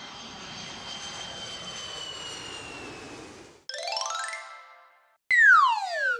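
Airplane engine sound effect in a children's song, a steady jet-like roar with a whining tone lasting a few seconds, then two short bright electronic swooping effects.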